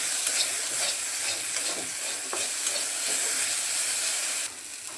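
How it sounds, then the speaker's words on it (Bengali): Okra sizzles and hisses in a pan while it is stirred, with a steady frying crackle, soft scraping strokes close by and a slight drop in level near the end. "এখন কিছু করে নাড়াচাড়া করে নামিয়ে নেব।"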